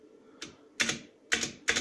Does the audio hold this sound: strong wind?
no